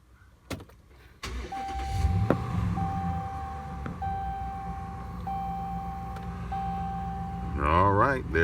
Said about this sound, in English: See if I can keep the camera there while I reach over and turn the truck on